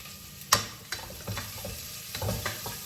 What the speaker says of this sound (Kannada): ಸೊ ಇದನ್ನು ಸ್ವಲ್ಪ ಫ್ರೈ ಮಾಡ್ಕೊಳ್ಳೋಣ.